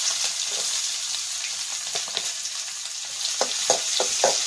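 Onions with mustard seeds and curry leaves fry in oil in a village kitchen while cabbage palya is made, giving a steady close sizzle with occasional stirring scrapes and no talking.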